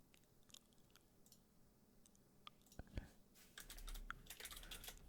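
Keyboard typing in a quiet room, sparse soft clicks at first, then a denser burst of keystrokes toward the end, faint and close.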